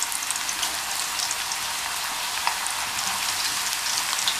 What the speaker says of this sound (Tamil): ஒவ்வொரு சிப்ஸாக நம்ம வந்து இப்படி போட்டு எடுத்துடலாம்.